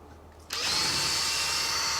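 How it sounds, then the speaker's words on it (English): A power drill run in reverse spins a Seadoo 951 two-stroke engine on an old engine mount, starting abruptly after a quiet moment and holding a steady, loud whirring drone to the end. "Run the drill in reverse."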